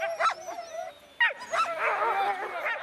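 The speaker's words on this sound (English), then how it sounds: "But huskies are too boisterous to stand still for long. Quite often they kick up a fuss, urging their driver to get a move on." Arctic sled huskies kick up a fuss, yipping and whining close by in quick overlapping bursts, then a longer stretch of excited howling whimpers from several dogs.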